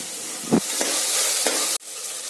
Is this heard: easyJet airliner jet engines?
no